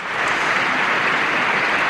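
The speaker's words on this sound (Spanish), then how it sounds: "Pueden escuchar el aplauso." Concert audience applauding as a choir walks onstage before a chamber orchestra performance at a Holy Week proclamation event, a dense steady wash of clapping with no voices.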